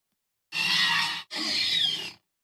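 A human voice imitates an animal's cough with two harsh, raspy bursts in quick succession, loud and close, each lasting under a second with a short gap between.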